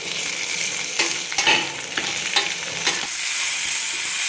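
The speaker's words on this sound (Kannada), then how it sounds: "ನಾನು 2 ಟೊಮೊಟೊ ತೊಗೊಂಡಿದ್ದೀನಿ, ಟೊಮೊಟೊನ ಹಾಕಿ ಫ್ರೈ ಮಾಡ್ಕೋಬೇಕು." Tomatoes frying with onions and spices in a pan: a loud, continuous sizzle broken by a series of scraping stirs that quicken in the middle, then settle back into steady hissing.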